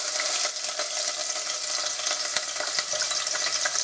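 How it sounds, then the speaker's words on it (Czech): Chopped onion sizzles loudly in hot lard, a dense crackling fry with scattered sharp pops and stirring scrapes throughout, with no voices over it. "Mám tady rozehřaté sádlo. Na sádlo si přidáme cibulku."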